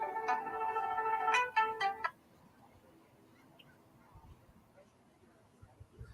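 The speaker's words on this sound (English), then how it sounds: "oh, we got a phone call." Electronic telephone ringtone trilling in a few bursts for about two seconds, fairly loud and close, then cutting off into quiet room tone with faint scattered knocks.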